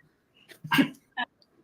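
A woman sneezes during a podcast conversation: a soft breathy intake, then a sharp, fairly close burst, followed by a brief second snort-like sound. There is no talk around it.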